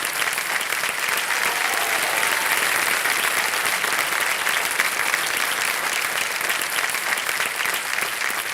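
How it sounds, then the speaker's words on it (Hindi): Steady, dense studio audience applause on the set of the Indian TV quiz show Kaun Banega Crorepati, loud and unbroken throughout with no speech over it. "तालियां बजती रहे इनकी।"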